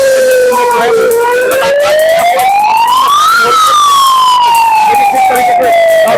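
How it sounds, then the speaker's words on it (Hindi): A loud, wailing air raid warning siren rises and falls slowly in long sweeping tones, steady and close, with faint speech underneath. "किस तरीके से सायरन जो है वो कहीं ना कहीं बजाया जा रहा है"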